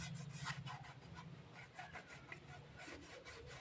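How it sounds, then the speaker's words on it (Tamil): Close, quiet scrubbing of a switchboard with Lysol makes a rhythmic rubbing and brushing sound with repeated back-and-forth strokes, faint and steady throughout. "லைட்டாக தேய்ச்சாலே போதும் நல்லா தேய்க்கணும் நல்லா"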